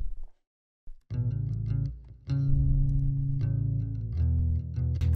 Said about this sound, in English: Add some reverb on the bass just for the intro.